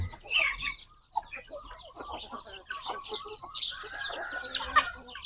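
Several chickens clucking and cackling close by, overlapping calls in uneven bursts with brief pauses, fairly quiet overall.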